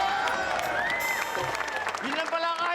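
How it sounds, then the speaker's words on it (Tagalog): Studio audience at a Filipino TV variety show clapping in a steady broadband patter, mixed under loud overlapping voices and tonal sounds for the whole stretch. "O sige, hanggang palakpak na lang."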